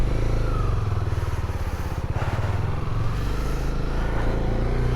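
A Honda CB300R loan motorcycle with low mileage runs steadily close by, its engine a continuous pulsing rumble without pauses.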